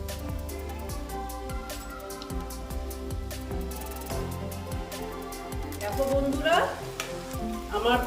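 Egg and potato chops frying in oil, a continuous close sizzle with crisp bubbling crackle, a louder burst of spattering near the end.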